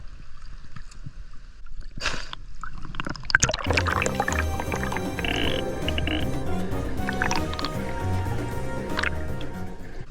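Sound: waterfall water flowing

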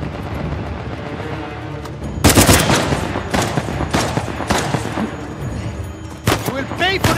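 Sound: gunfire in video game Uncharted The Lost Legacy

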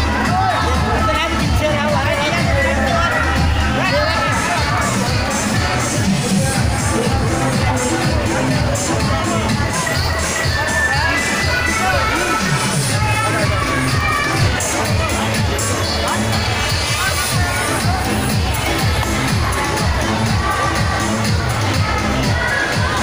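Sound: crowd gathered for prasad at Durga immersion

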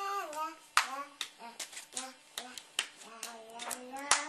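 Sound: hands clapping

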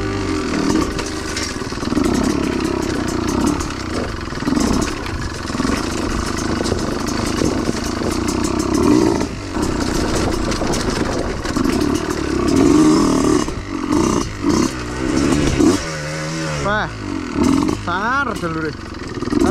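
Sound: motorcycle engine riding

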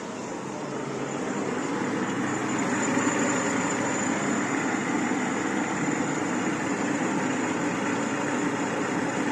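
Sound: Renault Scenic 2 engine idling after throttle cleaning

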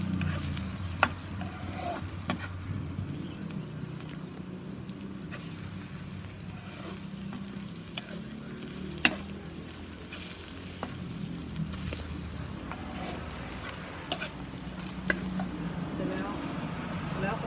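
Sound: pork stir-frying with Burmese curry paste in a pan

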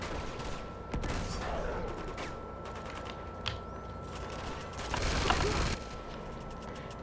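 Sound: gunfire in video game Uncharted 2 Among Thieves

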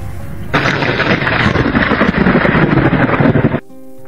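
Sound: thunder

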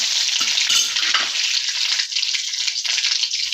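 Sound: curry leaves added to hot oil, sizzling

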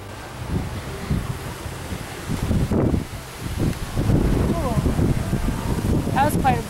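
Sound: strong wind gusting outdoors in Japanese garden

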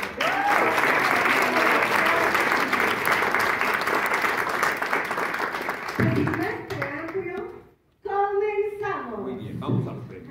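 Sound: audience applause

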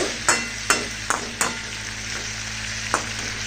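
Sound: stirring frying cauliflower stalk vegetable in pan

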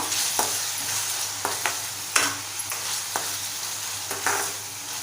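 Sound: tomatoes with salt being stirred and sautéed in a pan

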